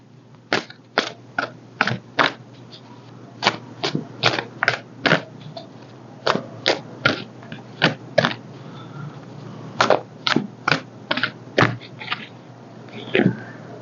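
Tarot cards being shuffled by hand in a series of crisp, close riffling bursts, each a short papery flutter, repeating unevenly over the stretch with brief pauses between.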